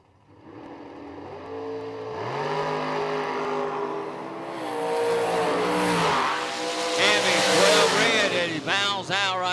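A small S10 pickup truck launches down a no-dragster drag strip, its engine climbing loudly through rising revs and gear changes, close and steadily building in power.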